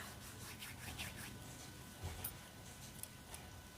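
Dried fenugreek leaves (kasuri methi) are crushed by hand over food, giving soft, crackly rustling and rubbing with a few small crisp ticks, quiet and close with no voices.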